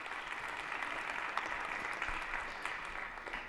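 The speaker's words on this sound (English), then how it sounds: "Round of applause for this brave volunteer." An audience in a large lecture hall applauds steadily as a volunteer comes on stage, a dense, even wash of clapping that holds at a moderate level throughout.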